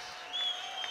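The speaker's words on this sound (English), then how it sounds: "Massive round of applause for both of these two warriors." Crowd applause at a WCMMA cage-fighting event after a hard-fought bout goes to the judges, a steady dense wash of clapping that swells slightly midway, brief and fairly distant.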